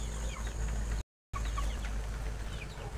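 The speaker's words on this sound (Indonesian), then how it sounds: "sambil kita lihat ayam-ayam kita ya" Chickens on a poultry farm clucking and calling continuously nearby, several birds overlapping, with a brief full dropout partway through and no talking.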